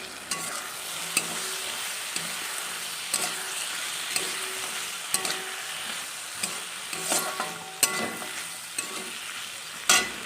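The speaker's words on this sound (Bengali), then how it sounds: "সেই মশলার পেস্টটা আমি এর মধ্যে দিয়ে দেবো এবং খুব ভালোভাবে এটাকে নাড়াচাড়া করে ভেজে নেব।" Spice paste fries in a pan while being stirred for a greens dish, a continuous close sizzle broken by repeated scraping strokes of a spoon against the pan, with no voices.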